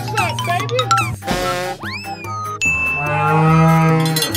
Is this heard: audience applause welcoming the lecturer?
no